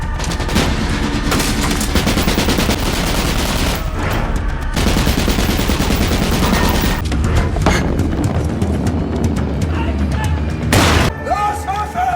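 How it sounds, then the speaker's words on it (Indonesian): Gunfight inside a church in a Nazi-era war film scene: loud, dense volleys of gunfire with rapid bursts and heavy booms, continuous and close, with a brief lull before a final loud crack. "Pada akhirnya adu tembak pun terjadi di gereja tersebut"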